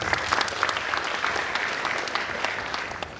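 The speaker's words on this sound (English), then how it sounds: "we can clap for him." An audience at a university prize giving ceremony breaks into sustained applause, dense clapping close and loud that eases slightly toward the end.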